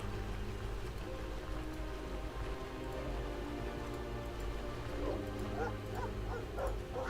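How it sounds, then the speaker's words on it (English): A pack of dogs barks and yips in the video game Stoneshard, a scattered string of calls that grows busier toward the end over a steady low backdrop. "Bunch of dogs."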